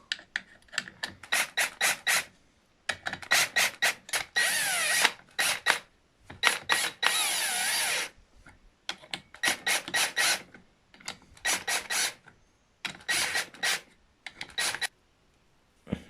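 Clutch bolts on a 160 YX pit bike engine are tightened bit by bit with a power tool, giving short, loud, close bursts of whirring and ratcheting separated by brief pauses.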